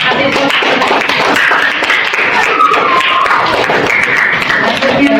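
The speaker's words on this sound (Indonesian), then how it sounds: "Tepuk tangan" Classroom applause follows a student group's presentation, a dense, steady patter of many hands clapping at once that carries on for several seconds, close and fairly loud.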